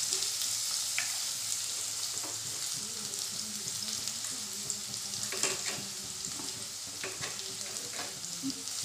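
Onion and green chilli sautéing in hot oil in a kadhai, a steady close sizzle with occasional stirring scrapes and clinks throughout, no talking.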